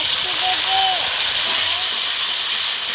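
Spices tipped into hot oil while cooking a stuffed potato curry with chicken filling, giving a steady loud hiss of sizzling that runs unbroken throughout, with faint tonal sounds over it.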